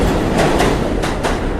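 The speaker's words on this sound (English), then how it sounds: "That's the N train." A New York City subway N train rumbles past nearby, a steady loud roar with rhythmic clickety-clack wheel beats on the rails, with no talking.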